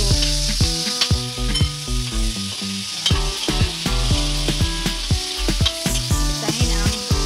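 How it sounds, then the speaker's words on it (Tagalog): Tomato, garlic and onion sautéing in a pan, a loud continuous sizzle punctuated by rapid, rhythmic clacks of a spatula stirring against the pan. "gisayin natin ang tomato, bawang, sibuyas, tomato"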